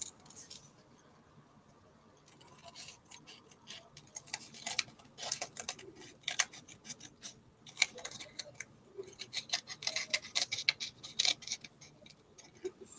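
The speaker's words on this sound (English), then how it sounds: "Maybe just some fine scissors that work very well. Detail scissors, I should say." Fine detail scissors snip through paper for handmade Christmas tags, giving a quiet run of crisp little clicks and cuts that grows busier and more irregular toward the end, close and without talk.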